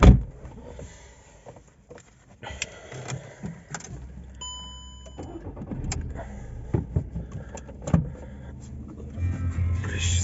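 A 2008 Skoda Roomster with a 1.4 MPI petrol engine and manual gearbox is cranked and started nearby, a brief starter whir followed by the engine settling into a low idle, alongside faint clicks and interior handling noises.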